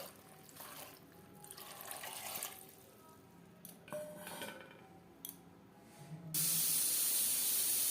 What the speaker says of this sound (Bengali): আর দিয়ে দেব পরিমাণ মতো জল।